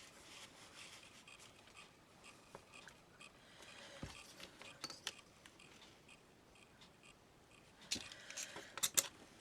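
Paper scissors trimming folded card for small hanging notelets, several soft snips and rustles at close range, with a louder cluster of cuts near the end.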